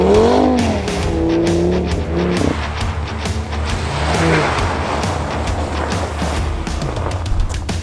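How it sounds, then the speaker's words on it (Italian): A 450 hp Audi RS3 slides on a snowy track with traction control off, its engine revving up and down loudly and continuously with rough, scrabbling tire noise throughout. "staccheremo i sistemi di antislittamento per far sì che la macchina perda aderenza"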